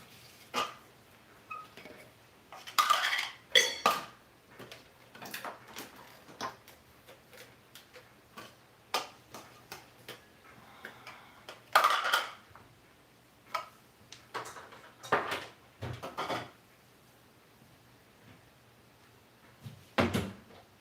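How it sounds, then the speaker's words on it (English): Scattered kitchen clatter as a spice grinder is wiped dry and put away: intermittent knocks, taps and cupboard or drawer thumps, irregular and fairly close, with quiet gaps between. "My spice grinder is not yet dried, so I'm gonna dry it."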